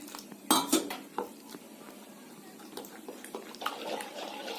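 Rice flour batter stirred by hand in a bowl, a utensil scraping and clinking against the sides in irregular strokes, with a couple of louder knocks near the start, close and moderately quiet.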